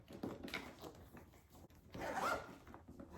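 A zipper on the inner pocket of a Kate Spade tote handbag is pulled in a few short, quiet rasping strokes, close by, ending in one longer zip.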